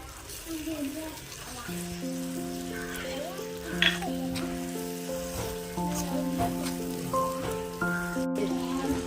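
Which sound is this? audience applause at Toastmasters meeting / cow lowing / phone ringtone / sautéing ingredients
sautéing ingredients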